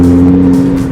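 Nissan GT-R with four-wheel drive running on 93-octane fuel, a loud, steady, close engine drone with a strong low hum.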